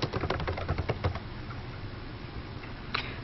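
Computer keyboard typing the words of a page title, a quick run of crisp clustered key clicks up close that tapers off, with one final tap afterward.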